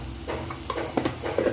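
Ginger garlic paste hits a hot pan and sizzles steadily, joined by a few soft stirring clinks and scrapes, close and moderately loud.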